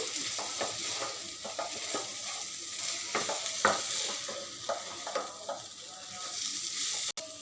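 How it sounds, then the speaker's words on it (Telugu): Vegetable noodles being tossed and mixed in a hot pan, continuous sizzling with frequent irregular spatula scrapes against the metal, close and moderately quiet, ending in a sharp click. "ఇప్పుడు నూడిల్స్ యాడ్ చేసుకోవటమే మనం. ఇదంతా బాగా కలుపుకోండి."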